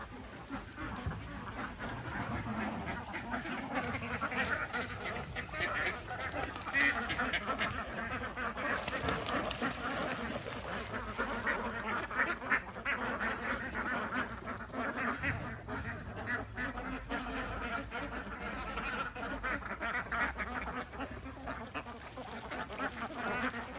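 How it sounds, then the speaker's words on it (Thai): A flock of egg-laying ducks streams out of their pen toward a pond, with dense overlapping quacks and honk-like calls running continuously at moderate distance over steady outdoor noise. "เปิดคอกคอกเป็ดแล้วก็ให้เป็ดเขาเดินออกลงสระจากคอกตรงนี"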